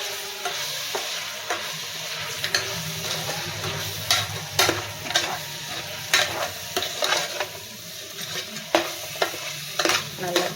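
Biryani ingredients sauté in a pan with a steady sizzle, broken by repeated scraping stirs and spoon knocks against the metal, close and fairly loud.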